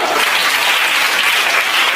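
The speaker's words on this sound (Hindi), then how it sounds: "एक बार तालियां बजा के जश्न कर दो" Audience members at a poetry recital celebrating the Amrit Mahotsav clap together in a bright, dense burst that holds steady and close for the whole moment.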